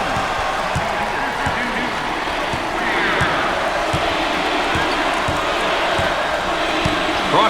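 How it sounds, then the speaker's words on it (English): Arena crowd noise in the NCAA Basketball 10 video game, a steady roar of cheering fans running the whole way through with faint ball bounces underneath. "Listen to the crowd."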